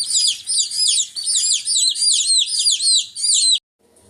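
Rapid high-pitched chirping from egg-layer chicks on a farm, a dense continuous chorus of peeps for several seconds before it abruptly stops.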